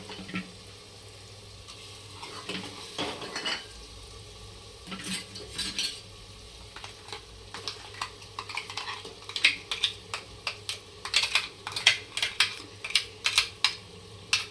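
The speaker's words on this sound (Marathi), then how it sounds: "हलवून घ्यायचं आहे सगळं मस्त असं फुल गॅसवर" Ground masala with onion and tomato for chicken being stirred on full flame in a pressure cooker, with rapid metal scrapes and clinks, loud and close, over a low sizzle and no voices.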